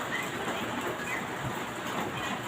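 Steady rain falls outside at lunchtime, a soft continuous hiss at low volume with no voices, holding evenly throughout.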